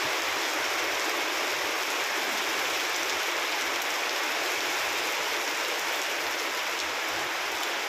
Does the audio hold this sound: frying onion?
no